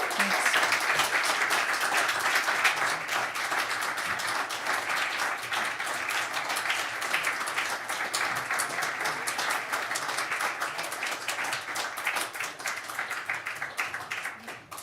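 Applause from an audience after a poetry reading, an even round of many hands clapping that holds steady for about fourteen seconds and fades out at the end.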